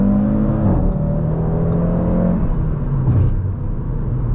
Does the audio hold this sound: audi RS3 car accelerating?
yes